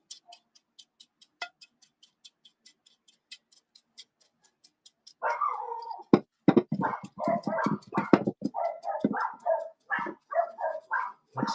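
Next-door dogs in a neighboring yard bark in quick irregular bursts, fairly close and loud, after a stretch of steady faint ticking clicks in a quiet backyard.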